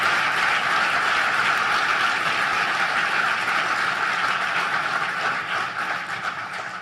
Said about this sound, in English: let's give the government of Mexico a vigorous round of applause